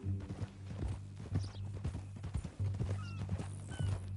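Horse hooves clip-clop in a steady walking rhythm in Red Dead Redemption 2, close and clear over a low hum, with a brief whinny-like sound and faint background tones.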